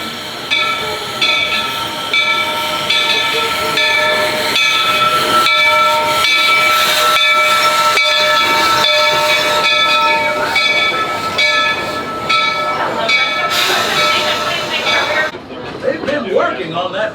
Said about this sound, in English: hop on the train and just take a lap around the park